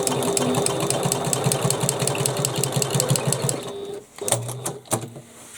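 A sewing machine stitches around a bag panel with a fast, even mechanical clatter up close for several seconds, then stops, leaving a few brief clicks and knocks.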